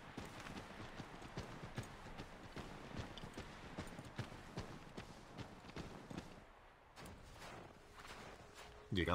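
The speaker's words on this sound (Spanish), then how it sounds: "Me gusta mucho este caballo." Horse hooves clip-clop at a steady walking rhythm in Assassin's Creed III, fairly close and moderately loud, with game ambience and brief stretches of speech around them.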